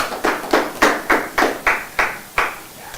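A classroom of students claps for a classmate in a Sales and Trading class, the applause coming in eight distinct, evenly spaced bursts, each one crisp, near and moderately loud over a quiet room.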